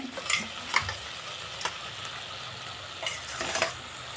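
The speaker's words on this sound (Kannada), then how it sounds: "ಆ ಪಾಸ್ತಾನ ಇವಾಗ ಹಾಕ್ತಾ ಇದ್ದೀವಿ" Boiled pasta tipped into a frying pan and stirred while cooking at a friend's home, with bursts of scraping and tossing over a constant low sizzle.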